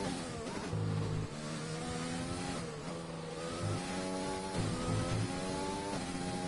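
A Formula 1 car engine from the video game F1 2020 on a hot lap at Hungary, screaming at high revs with rising and falling pitch sweeps as it brakes and accelerates through a chicane, loud and continuous.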